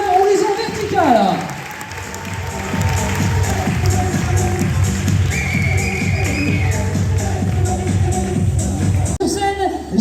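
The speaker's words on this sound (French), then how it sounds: "Vous pouvez les applaudir" Audience applause for young climbing athletes from the Horizon Vertical club at a sports awards ceremony in a hall, a sustained wash of clapping with some cheering, filling the room under a brief announcer voice.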